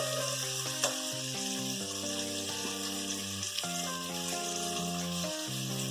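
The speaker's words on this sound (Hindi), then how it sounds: "इसे हम तेज आंच पे भूनेंगे" Sweet corn sizzles and crackles steadily in a pan over high heat, with occasional stirring scrapes, while soft music plays in the background.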